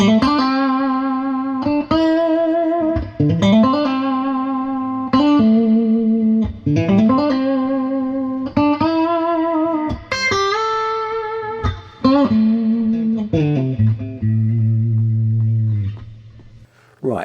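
Electric guitar notes and chords ring out through a hand-wired amp's spring reverb, dwell near 8.5 and mix near 7, wet and splashy, played in short phrases with tails that linger between them.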